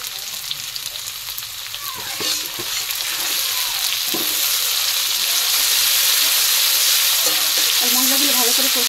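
Turmeric and chili powder frying in oil in a pan while being stirred, a loud steady sizzle close to the microphone with occasional scraping of the spatula and a faint voice underneath.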